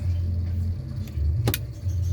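A single sharp relay click from a Sharp refrigerator control board at power-on, one brief snap midway over a low steady electrical hum, with no talking.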